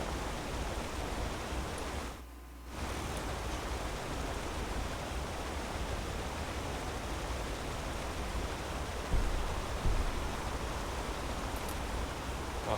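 Steady river rush in the video game Enderal, a loud broadband hiss of flowing water that drops out briefly early on and then continues unbroken.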